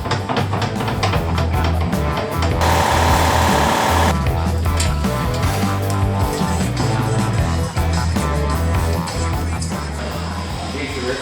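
A Harley-Davidson Lowrider ST motorcycle runs hard on a dyno, its engine roaring loud and close with a dense, pulsing low rumble that holds steady and swells in places, while voices come through faintly at times.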